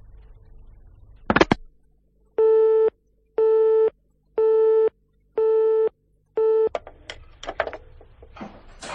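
A telephone busy signal sounds after a call is cut off: five evenly spaced steady beeps, loud and close, between brief handling noises and rustle.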